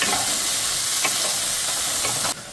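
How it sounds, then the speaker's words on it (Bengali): Potatoes sizzle and crackle steadily in hot oil, a loud continuous fry that drops off abruptly near the end. "আলুগুলো ভালো করে লাল করে ভাজা হয়ে গেছে"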